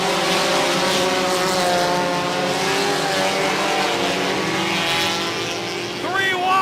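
Race cars roaring around a short oval track during a late model and Hornet event, a loud continuous engine whine with shifting pitch as cars pass close, under a commentator's voice over the PA.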